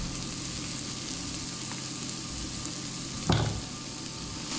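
Garlic sizzles steadily in a hot pan, a dense, close frying hiss throughout, with one brief louder crackle as more hits the oil.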